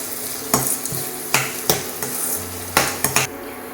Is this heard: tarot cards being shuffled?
no